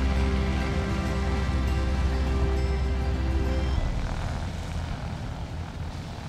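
A propeller aircraft drones steadily over the Pyrenees mountains, a loud continuous engine hum that shifts and thins toward the end as the plane passes.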